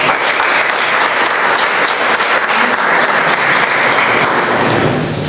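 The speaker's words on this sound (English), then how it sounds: "So can we give a round of applause?" An audience at a Toastmasters club meeting in Bombay gives a steady, dense round of applause that runs loud and unbroken with no talking, easing slightly at the end.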